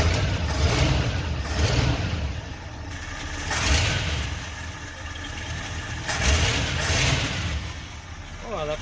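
Ford 360 V8 in a 1970 F250, freshly fitted with Pertronix electronic ignition, runs with a steady near idle that swells in a few soft revs over the clip, with talk faintly over it.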